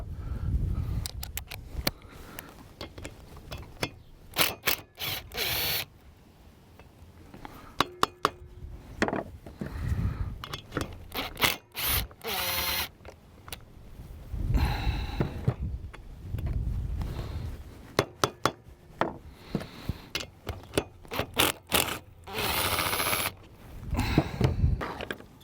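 An impact gun loosens the four cylinder bolts on a Husqvarna 435 chainsaw during a workshop strip-down, in several short, loud rattling bursts separated by pauses and quieter handling noise.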